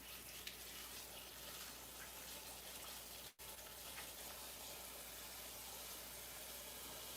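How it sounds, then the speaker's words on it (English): Water gushes steadily from a tap to fill a container for washing strawberries in a home kitchen, a continuous rushing sound broken by one brief dropout, with no talking. "So I'm going to fill up with water and clean it."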